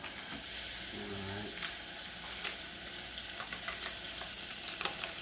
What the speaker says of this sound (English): you want this butter to be like on medium to low heat so the butter don't burn